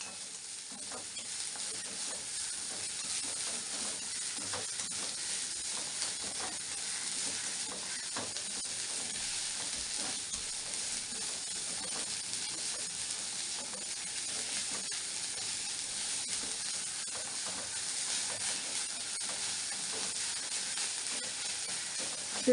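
Fenugreek leaves sautéing in a pan, a continuous broad hissing sizzle with faint stirring clicks underneath, steady and unbroken throughout, with no talking.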